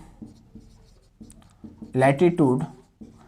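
Marker or chalk writing on a board during a theodolite surveying lesson on bearings and latitude, a soft scratchy stroke sound that is brief and intermittent, with a voice talking loudly over part of it.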